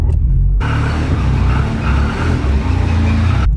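A Ford car engine idles nearby with a steady, loud low rumble, briefly quieter at the very start before the sound swells and holds evenly.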